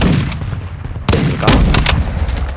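Dense gunfire from the video game Call of Duty: Modern Warfare 2 in a 64-player match rattles loud and close, with sharp bursts and booming shots stacking over a rumbling battle bed.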